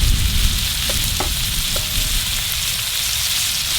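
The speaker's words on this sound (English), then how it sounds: "Let's go in with some butter." Butter sizzles and spatters loudly in a hot pan beside a ribeye steak, a dense, steady crackling hiss with a few sharper pops, no voices.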